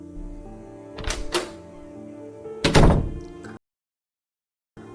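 The wooden door of a mountain hut swings open in an eerie horror scene: a couple of heavy thunks, then a louder creaking knock, ringing over a low droning tone before dropping into dead silence.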